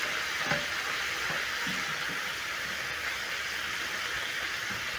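Minced meat sears in a pan in a single layer, giving a steady, even hiss of sizzling with a few faint stirring knocks underneath.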